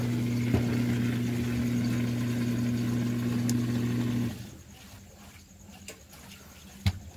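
Electrolux LPR-series top-load washing machine, loaded with towels, running its spin cycle: a steady loud motor hum with a tonal drone that stops abruptly partway through, leaving quiet room tone and a couple of faint clicks.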